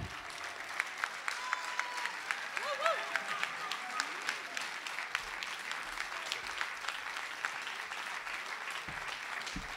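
Audience applause at a jazz concert in a club fills the room with dense, continuous clapping of many hands, steady and moderately loud, with a few brief voices and cheers mixed in.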